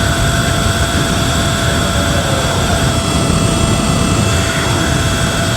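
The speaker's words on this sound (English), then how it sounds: "Does the bike sound louder to you? Because the bike sounds hella loud to me." A 72v Surron electric bike fitted with a 48-tooth sprocket runs loud at high motor RPM, a steady whining drone with wind rush that holds constant throughout, with no talk.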